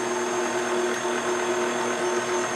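An electric mixer whirs steadily through cupcake batter as two eggs are added, a constant mid-level motor hum with no pauses and no talking.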